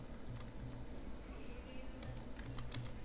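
Someone types a code on a computer keyboard, with soft, quick key clicks in short bursts over faint background hiss.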